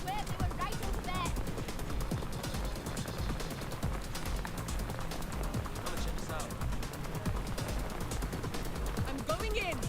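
Gunfire in the video game Watch Dogs Legion, a run of rapid shots and bursts layered over a steady game soundscape, with a voice talking now and then.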